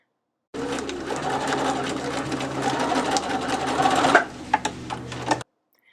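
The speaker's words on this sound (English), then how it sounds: "just fold your fabrics in half long way and stitch down each side" Sewing machine running steadily as it stitches folded fabric strips for ruffles on a diaper bag, a close rapid mechanical whir that slows into a few separate clunks before stopping.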